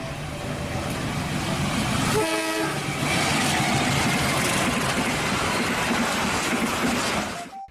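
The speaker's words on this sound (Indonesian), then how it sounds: "Di sini ada kereta api." A toy train runs with a continuous loud rattling roll, broken by a brief cluster of horn-like toots partway through and a short tone at the end.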